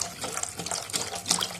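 Water pouring steadily into a homemade cleaning mixture, a continuous splashing stream heard up close with no talking.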